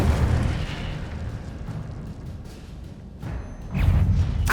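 Incendio fire spell in Hogwarts Legacy erupts as a sustained roaring, crackling fiery burst, fading slightly midway before a second loud whooshing flare near the end, with no talk.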